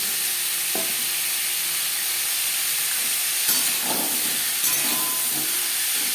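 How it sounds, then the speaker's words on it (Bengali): Papaya curry cooking in a pan over a gas flame, a steady soft sizzle and hiss with a few scraping stirs of a spatula, close and alone without talk. "নাড়াচাড়া করে নেব"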